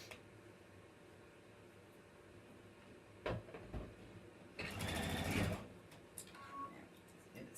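A sewing machine stitches piping cord in brief bursts, with a longer run of stitching midway, set against a quiet room with occasional handling clicks.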